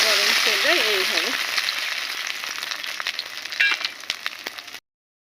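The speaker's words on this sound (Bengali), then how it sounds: "এবার এইগুলো আমি একে একে দিয়ে দেব। দেখুন গরম তেলে এইভাবে।" Pumpkin leaf and lentil fritters fry in hot oil with a close, dense sizzle and crackle that gradually eases, a brief voice fragment near the start.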